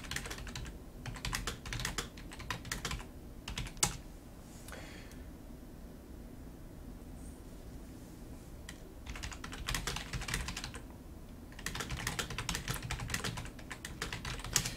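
Rapid clicking of a computer keyboard as a chat message is typed during a StarCraft 2 replay stream, coming in bursts separated by brief quieter pauses, close and clear, with no talking.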